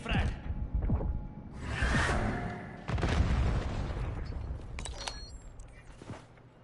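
A frag grenade detonates in Black Ops 6 amid busy multiplayer gunfire, with a whooshing rush and a booming burst standing out over other shots and game sounds.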